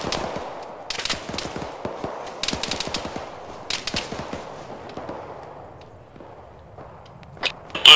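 AK rifle fire in an Arma-style military game crackles in rapid bursts and scattered single shots, some sharp and close, others more distant, thinning out toward the end.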